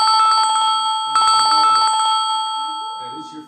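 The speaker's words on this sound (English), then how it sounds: "That is your phone." A mobile phone rings with a repeating electronic ringtone, loud and close, in a room where people are gathered for a talk; the tone cuts off briefly, resumes, then fades as a voice starts speaking.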